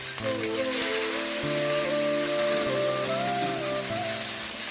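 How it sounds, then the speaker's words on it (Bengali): Prawns seasoned with turmeric and salt fry in hot oil in a wok, giving a steady, close, loud sizzle that runs the whole time beneath a tonal musical backing. "চিংড়ি মাছ প্রায় ভাজা হয়ে এসছে।"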